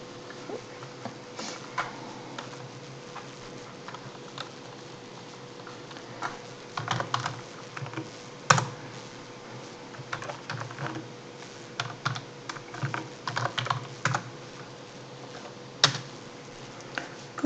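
Typing JavaScript code on a computer keyboard, a steady stream of close, quiet key clicks with occasional louder taps, no talking.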